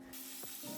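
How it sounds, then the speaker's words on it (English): A spray bottle mists a pet snake's enclosure with a brief, soft, continuous hiss. It is faint and heard alone, without any talking. "Now let's give him a bit of a mist."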